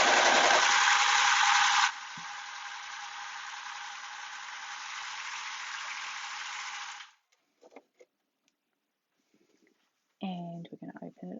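An overlocker stitches at speed, a loud continuous mechanical whir that runs steadily for about seven seconds and then stops, followed by a few faint clicks and the start of a voice talking.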